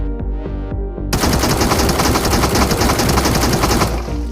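Automatic fire from an ACE-32 7.62 mm assault rifle in the mobile game BGMI: a few separate shots open, then a sustained, loud, rapid burst runs for about three seconds before stopping.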